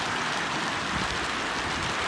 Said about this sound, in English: It's not actually like raining, it's just hail.